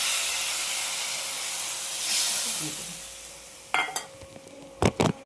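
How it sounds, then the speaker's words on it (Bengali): Spice paste mixed with water hits hot oil in a pan for potol jaal, a loud broad sizzling hiss that swells and slowly fades, followed by a few sharp scrapes of stirring. "এই মশলাটা আমি এখন দিয়ে দিচ্ছি একটু জল দিয়ে"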